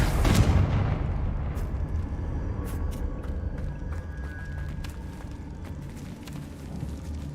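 A Confringo blast spell in the video game Hogwarts Legacy: one heavy booming explosion at the start, then a long rumbling decay with scattered crackles and clinks of debris.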